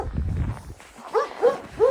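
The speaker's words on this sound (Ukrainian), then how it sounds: "Собака ще на нас надривається." A dog in a snowy winter village barks a few sharp, close times at passersby, after muffled footsteps crunching on snow.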